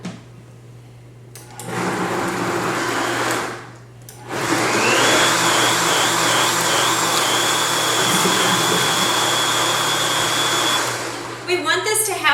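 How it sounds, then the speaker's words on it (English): A blender whirs loudly as it purees amba sauce with spices, pepper and water, starting with a short burst, pausing briefly, then running steadily for several seconds before winding down. "And we're going to blend it."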